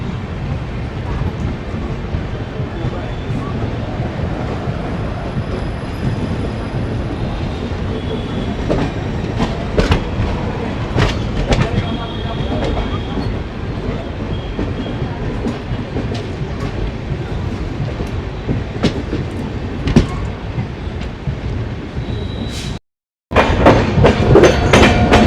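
Intercity express train 12180 running on rails between Agra Fort and Lucknow, hauled by a WAP7 locomotive, with steady wheel rumble and rhythmic clickety-clack close by for a long stretch, a brief dropout near the end, then the rolling noise resumes loudly.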